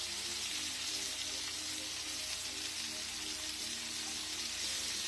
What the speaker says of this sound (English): Whoa, that will happen because you're frying